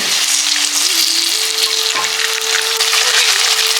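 Chicken frying in a pan for biryani, a loud, steady close sizzle with no talk and a faint tonal hum running underneath.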